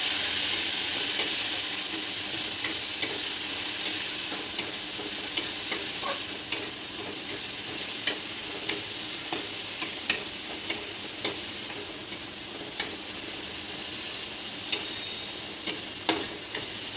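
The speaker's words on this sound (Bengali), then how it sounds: "পেঁয়াজটাকে একটু হালকা লাল লাল করে ভেজে নেব।" Onion paste fries in a pan while making a fish kalia. A continuous bright sizzle runs throughout, broken by regular light taps and scrapes of the stirring spatula.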